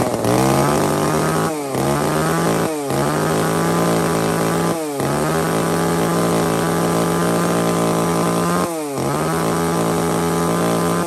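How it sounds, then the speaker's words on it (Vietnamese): An Echo chainsaw, a long-bar G5 model, runs loud and close at a steady idle, its engine note dipping briefly a few times as the throttle is blipped. "một con máy cưa Echo Curit G5"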